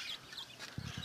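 A backyard hen clucks in a few short, soft bursts near the end, faint and close against a quiet yard.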